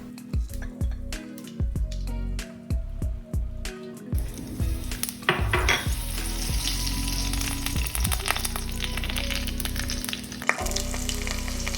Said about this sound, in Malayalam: കടുക് പൊട്ടിക്കഴിഞ്ഞ് അതിലേക്ക് കായപ്പൊടിയും കറിവേപ്പിലയും ചേർത്ത് കൊടുക്കാം.